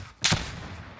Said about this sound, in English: they're shooting over to their south.